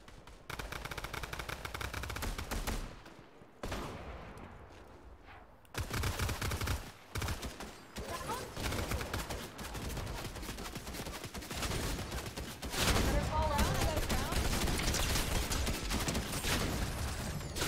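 Video game gunfire rattles in rapid bursts, dense automatic shots crackling nearly nonstop with brief pauses, fairly quiet overall.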